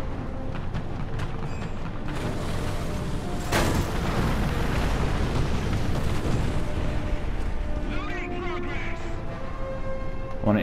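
A tank cannon firing and a shell exploding in War Thunder, one heavy boom rising out of a constant rumbling engine and battle backdrop, with someone talking throughout.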